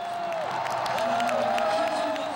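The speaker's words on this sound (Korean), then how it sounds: "반대편에서 보는 사람들이 환호하기 시작했다." Korean Red Devils football supporters at a 2022 Qatar World Cup gathering, a distant crowd cheering and whooping steadily with a wavering shout riding above the broad roar.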